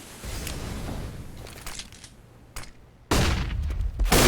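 Gunfire from a Counter-Strike match on de_mirage sounds in sharp bursts of pistol shots over a rumbling background, with a dense loud volley near the end.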